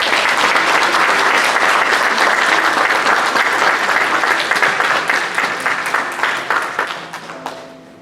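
A church congregation applauds after gifts and flowers are presented, a full, sustained round of clapping from many hands that gradually thins and fades out toward the end.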